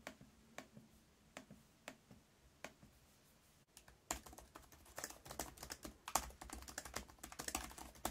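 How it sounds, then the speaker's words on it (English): Typing and clicking on the spill-resistant keyboard and trackpad of a Lenovo 500e Chromebook 2nd Gen: sparse, evenly spaced taps at first, then a dense, close stream of rapid keystrokes and clicks with no talk. "Here's a bit of audio of me typing and tapping and clicking on the trackpad to give you an idea."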